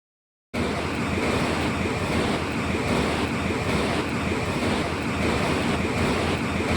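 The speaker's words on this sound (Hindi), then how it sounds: "देखिए कितनी रफ़्तार से पानी यहाँ से निकल रहा है" Fast water rushing beneath a bridge in Coimbatore during the summer low-water season makes a loud, steady broadband roar that holds unbroken throughout, with no voices.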